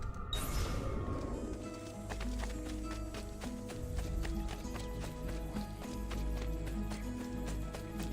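Horse hooves in the video game Assassin's Creed II clatter in a steady, rhythmic clip-clop gallop, close and clear, alongside tonal game music with no talking.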